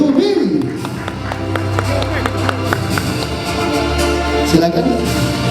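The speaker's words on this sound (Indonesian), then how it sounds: "Tepuk tangan dong untuk Bapak M." Audience clapping at the Festival Film Wibawamukti awards night, a steady wash of many hands with some crowd noise and a voice speaking briefly at the start and end.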